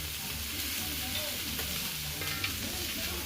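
Soybean roast sizzles in a frying pan while being stirred, a continuous hissing fry with soft scraping and stirring movements close by.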